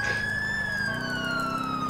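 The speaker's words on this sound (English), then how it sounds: "Going through the red lights, hit the siren." A police car siren wails steadily in GTA IV, its pitch sliding slowly downward over a continuous engine drone, loud and sustained throughout.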